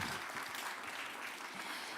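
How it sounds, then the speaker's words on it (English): Faint, distant audience clapping at a Kenya China Trade Week conference as a speaker heads to the podium, a soft continuous patter of many hands. "So please clap for me."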